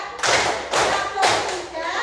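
Three loud, close bursts of group hand clapping come at a steady beat, each a sharp, broad slap, as in a class clapping together in time.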